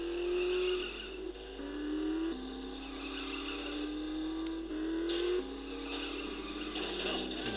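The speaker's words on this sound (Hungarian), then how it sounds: "Versenyjármű." Racing car in The Saboteur video game driving at speed, a steady engine drone rising in pitch through repeated gear shifts, loud and continuous with no talk.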